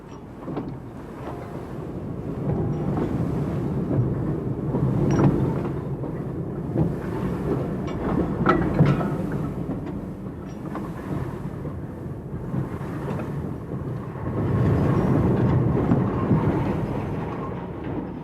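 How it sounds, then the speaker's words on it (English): Heavy railway wagons rumble and clank down a hump yard into the sidings, a deep continuous rolling noise with occasional knocks and swells. "watch the wagons tipping over the top and running down into the sidings below"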